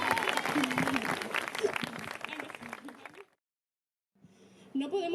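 A crowd at a school graduation ceremony applauds with dense, lively clapping for about three seconds, then cuts to silence before a voice and some noise return.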